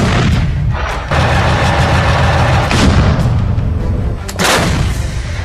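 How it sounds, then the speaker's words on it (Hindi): Russian 2S7 Pion self-propelled gun firing during the war in Ukraine, a loud heavy boom followed by rumbling echoes and a second blast, the low roar filling the scene at close range. "परमाणु बम गिराने वाली रूस की ये तोप कैसे आग उगलती है, इसे देख लीजिए।"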